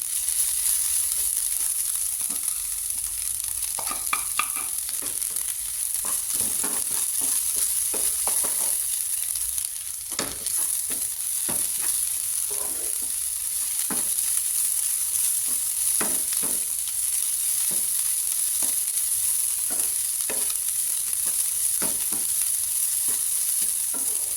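Carrot and pumpkin sauté in a pan for a steamed soya dumpling filling, with a continuous close sizzle broken by frequent scraping stirs throughout and no talking.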